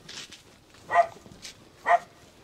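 A dog at a rural home in the hills gives two short, whimpering yelps about a second apart, fairly close against a quiet background.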